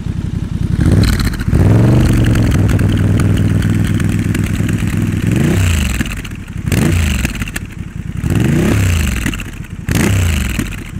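A Honda Transalp motorcycle engine revs up several times in close succession, its modified exhaust burbling and gurgling between throttle blips, loud and close.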